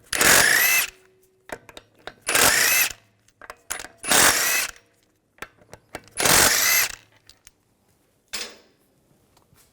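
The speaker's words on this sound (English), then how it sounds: "Use a 17mm socket to take the lug bolts out." Power tool with a 17mm socket spins out the lug bolts on a 2006-2010 BMW 550i front wheel, four loud whirring bursts separated by short clicks and handling noises, ending with a fainter brief spin.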